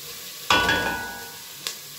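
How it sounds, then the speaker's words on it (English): Celery hits hot oil in a pot with a sudden loud sizzle that swells and slowly fades, followed by a brief clink near the end, with no talk. "This is my celery. So I give it a fry."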